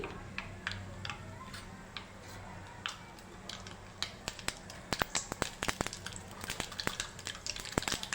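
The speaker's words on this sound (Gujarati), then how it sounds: "હવે આપણું તેલ ગરમ થઈ ગયું છે હવે આપણે તેમાં રાઈ એડ કરી દઈશું એક ચમચી જેટલી" About a spoonful of mustard seeds crackling in hot oil as a tempering for spinach dhokla: sharp, scattered pops that start sparse and grow quicker and denser, over a soft sizzle. Close, with no talk.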